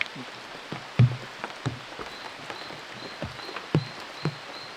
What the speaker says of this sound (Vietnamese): trời mưa lắm